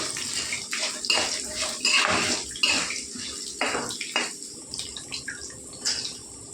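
Ginger pieces sizzle in hot oil in a pan, a steady dense hiss close by, with a few clinks of a utensil against the pan.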